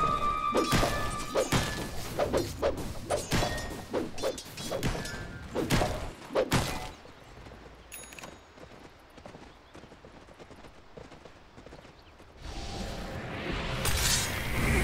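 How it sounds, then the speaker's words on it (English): Dota 2 match with a tower under attack: a dense run of hard thumps, clattering hits and crashing impacts for several seconds, thinning out before a final burst of noisy clashes. "Radiant's middle tower is under attack"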